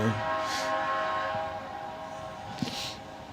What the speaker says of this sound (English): Now the train coming through, they are very loud.